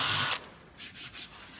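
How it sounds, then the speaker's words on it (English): A 6mm drill bit bores through the thick plastic tank of a Tennant T300 scrubber: a loud, close burst of drilling, then softer intermittent whirring pulses as the bit is run again. "So we're going to put a 6mm drill through there now"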